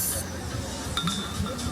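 Glasses clink in a toast at Alona Beach in Bohol, a couple of bright, brief clinks in the middle amid noisy chatter and ambient hubbub.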